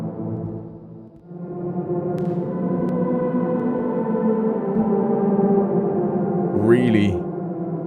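Spitfire Audio Stevenson Steam Machine virtual instrument played from a keyboard: a sustained, layered tonal drone swelling after a brief dip, with a few faint clicks and a short rising whistle-like flourish near the end.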